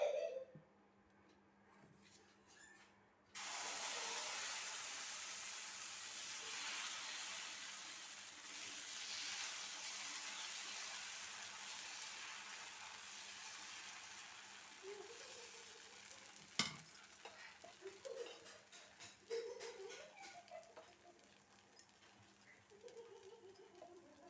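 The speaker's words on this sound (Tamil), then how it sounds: "இப்போ நான் வந்து ஸ்டவ் பற்ற வச்சு தோசைக்கல் வச்சுருக்கிறேன். சூடாகிடுச்சு. இப்போ நம்ம வந்து தோசை ஊற்றிக்கலாம்." Pearl millet (kambu) dosa batter poured onto a hot griddle sizzles steadily after a quiet start, a soft continuous frying hiss close by with a sharp clink midway and light scraping later.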